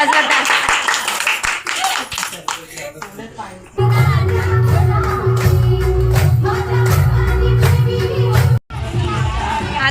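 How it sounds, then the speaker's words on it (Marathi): Applause rings out from a crowd, a steady clatter of many hands clapping with voices and cheers mixed in, briefly cutting off near the end. "हा टाळ्या"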